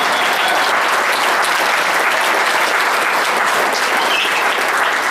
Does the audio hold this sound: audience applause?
yes